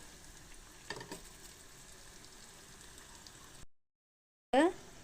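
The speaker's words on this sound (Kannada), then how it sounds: "ಮೀಡಿಯಮ್ ಉರಿ ಇಟ್ಕೊಂಡು ಇವನ್ನ ಕರ್ಕೋಬೇಕ್ರಿ" Potato snacks frying in oil over a medium flame, a low, steady sizzle with a couple of faint knocks early on, then a brief cut to silence before a short louder burst at the end.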